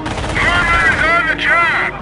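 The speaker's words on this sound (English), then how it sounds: "MG gunner up and firing!" Machine gun and artillery fire in a World War II war video game mission, heavy close blasts with rumbling echoes, plus a sharp burst near the end, loud and without a break.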